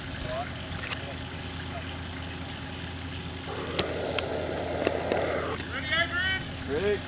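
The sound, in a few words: vehicle engine revving while bogged in mud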